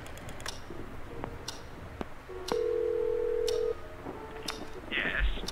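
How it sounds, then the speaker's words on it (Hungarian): Telephone keypad dialing in a Scratches Director's Cut point-and-click horror game: a few quick beeps, then a sustained steady tone for about a second and a small electronic chirp near the end, over faint ambient clicks. "ha tudunk telefonálni esetleg Jerrynek vagy valakinek."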